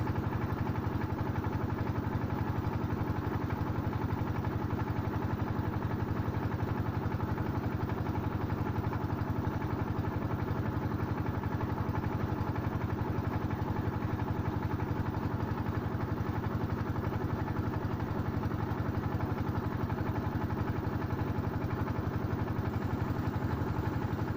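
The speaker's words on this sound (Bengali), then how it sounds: "ট্রলারের যে শব্দ সেটা খুব বিরক্তিকর লেগেছে আমার" A trawler boat's engine drones steadily on a river flanked by trees, a loud, unbroken mechanical rumble and clatter with no pauses for the whole stretch.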